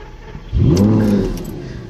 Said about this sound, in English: We're gonna start the engine and see what it does.